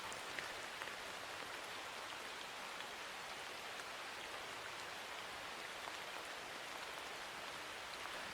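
A soft, continuous hiss of tumbling grains pours on evenly like steady rainfall, faint and unbroken throughout.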